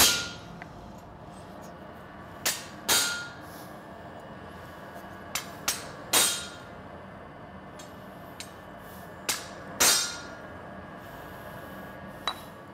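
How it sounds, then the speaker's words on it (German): Metal clangs sound as a flat iron bar is struck with a punch at the edge of an anvil during horseshoeing, with single and paired ringing blows spaced irregularly over quiet room noise. "Und körnen immer an der Kante vom Amboss"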